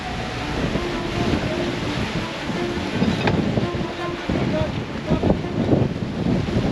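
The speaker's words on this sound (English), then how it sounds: "Good breeze, man. 20-25 knots." Strong wind of 20 to 25 knots buffets a sailboat under way, a continuous roaring rush across the microphone with water wash and faint tonal hums, loud and close.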